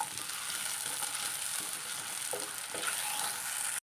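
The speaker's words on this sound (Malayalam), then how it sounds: "മാങ്ങ നമ്മൾ ഇതിൻ്റെ ഒന്ന് വഴറ്റിയിട്ടാണ് നമ്മൾ കറി വയ്ക്കുന്നത്" Mango pieces sautéing in a pan for curry, a steady close sizzle and fry with a few soft scrapes of stirring, no talking.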